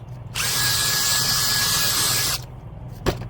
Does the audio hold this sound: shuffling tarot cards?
no